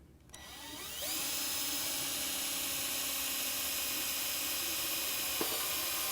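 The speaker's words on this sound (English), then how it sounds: "would you start drilling just a hair below center in this case?" A power drill bores into motorcycle bodywork while a factory body part is installed, spinning up after a short start and then whining steadily and loudly at close range, with a brief dip in pitch near the end.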